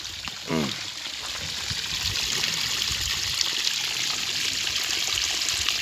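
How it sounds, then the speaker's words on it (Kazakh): Water flows and gushes down, wasted from an open supply near a medical college. A steady, loud rush of broadband noise runs through the whole stretch with no break. "бұл жерде мондай су ағып жатады да, шарқырап түседі"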